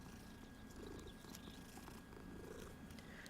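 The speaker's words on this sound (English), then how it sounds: "Look at that kitty." Cat in the video game Hogwarts Legacy purrs softly and continuously in a rhythmic rumble, faint and close with no voices.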